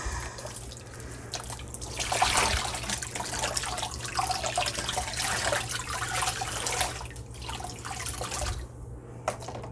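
Steady running water from a tap splashes into a sink, a continuous broadband wash with a low hum beneath it and no voices.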